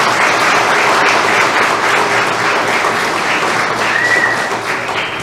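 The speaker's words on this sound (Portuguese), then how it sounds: "vamos receber então com uma salva de palmas" Loud, sustained applause from an audience filling a council chamber during a solemn evening ceremony, a dense steady wash of clapping that runs unbroken for the whole stretch with no talk over it.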